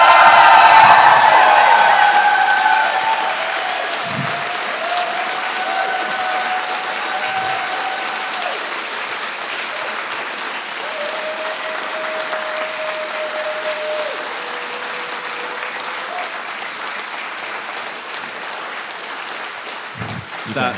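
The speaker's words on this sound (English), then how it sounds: "That line gets less applause in like a corporate office." Sustained applause from a live comedy podcast audience, loud at first with cheers and whoops, then settling into steady clapping that slowly fades over about twenty seconds, with occasional voices beneath.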